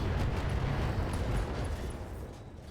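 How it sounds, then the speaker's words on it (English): An ammo explosion in the video game BattleTech makes a dense, rumbling roar that stays loud and sustained, then tapers off slightly toward the end. "Ooh, ammo explosion."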